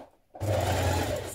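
A sewing machine stitches down the facing on a 1960s vintage dress neckline, starting after a brief quiet moment and running in a loud, steady whirring hum to the end.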